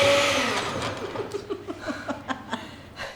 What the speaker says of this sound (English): Sorry, she didn't lock the blender.